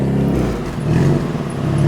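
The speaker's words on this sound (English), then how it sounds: "Daddy's gonna start up the car." A car engine turns over and settles into a steady low idle close by, a dense rumble with faint rattling; the start happens on a tropical Philippine island.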